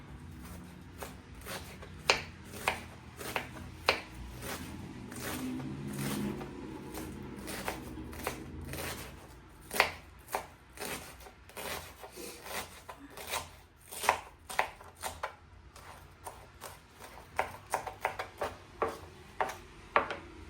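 Knife chopping a red Bombay onion on a board for paneer curry, a run of crisp close taps at an uneven pace, sometimes in quick bursts, with soft scraping in between.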